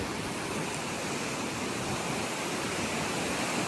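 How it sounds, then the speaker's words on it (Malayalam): Strong mountain wind roars steadily and loudly on the road from Kerala to Ladakh, a constant rushing noise without pauses or other sounds. "നല്ല കാറ്റുണ്ട് കേട്ടോ"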